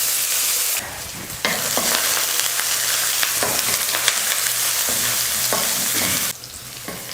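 Onions sautéing in hot oil with mustard seeds and curry leaves for a cabbage stir-fry, a loud steady sizzle with scraping stirs and two brief quieter dips, no talking.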